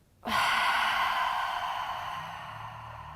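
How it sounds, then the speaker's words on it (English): A deep open-mouth exhale during gentle yoga breathing, a single breathy whoosh close to the mic that starts abruptly and slowly fades over about three seconds. "Open the mouth, fullest breath out."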